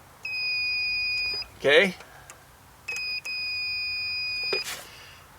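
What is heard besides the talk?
multimeter continuity beeper beeping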